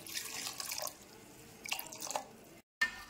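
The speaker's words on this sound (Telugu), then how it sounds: "ఇంకొంచెం వాటర్ పోసుకోవాలండి" Water is poured into a tomato dal mixture with tamarind juice in two short splashing bursts, faint and close, separated by a quiet pause and a brief cut.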